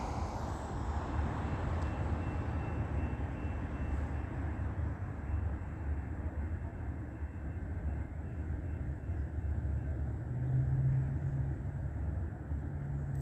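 A Metrolink passenger train heading westbound passes at a distance, making a steady, broad rumble that swells slightly toward the end and continues throughout with no speech.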